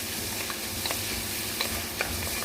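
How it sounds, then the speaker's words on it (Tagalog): Onions frying in a pan for tuna nashif, a dense, even sizzle close by with a few light clicks of a utensil against the pan over a couple of seconds, no voices. "Sibuyas, sinalang ko na."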